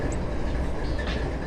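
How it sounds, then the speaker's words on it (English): A CSX freight train rolls past nearby as a continuous low rumble mixed with wind noise, with no clear clacks or horn. "You probably can't hear me over the wind and the CSX train behind me,"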